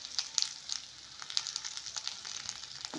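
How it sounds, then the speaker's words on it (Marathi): Curry leaves and finely chopped green chilies sizzle in hot oil for a Malvani-style potato bhaji, a steady close crackle with scattered sharp pops, no voices. "यात आपण आता कढीपत्ता घालून घेऊया आणि जी आपण बारीक 3 मिरच्या कापलेल्या त्या घालून घेऊया"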